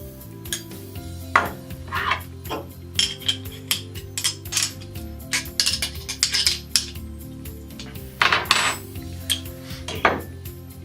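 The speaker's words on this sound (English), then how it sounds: "take 2 wrenches and tighten it down" Two wrenches tightening a hex nut spacer onto a wheel assembly, giving a string of sharp metallic clinks and clanks at uneven intervals, fairly close and clear with no talking.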